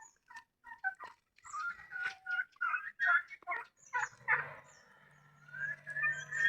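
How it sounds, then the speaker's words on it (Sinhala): Egg-laying hens on a farm cluck and squawk in a quick, uneven series of calls, close and fairly clear, with a lower drawn-out call near the end and no talking. "ඉතින් ඔන්න මේ ඉන්නේ බිත්තර දාන කට්ටිය බලන්න"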